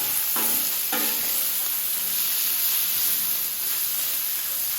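Cheesesteak beef seasoned with salt, garlic salt and pepper sizzles on a flat top grill over low heat, a loud continuous hiss with a few scraping stirs near the start.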